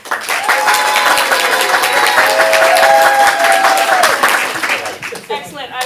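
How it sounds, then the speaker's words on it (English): An improv comedy showcase audience applauds to vote for the red team: loud, dense, sustained clapping and crowd noise for several seconds, tapering near the end as a voice begins speaking. "So if you liked the red team, applaud now."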